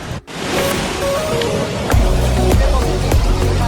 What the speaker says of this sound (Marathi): हवेचा भरपूर आवाज येतो आहे